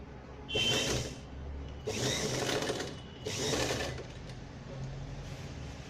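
A sewing machine stitches fabric for a party-wear gown in three distinct bursts of rapid whirring, each about a second long, separated by short pauses, close and fairly loud with no talk.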